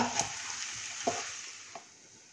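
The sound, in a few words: stirring farsan and coriander into masala in pan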